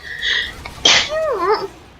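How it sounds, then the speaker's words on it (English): A single sharp sneeze bursts out near the microphone at close range, followed by a brief squeaky, whining vocal sound. "I want to sneeze."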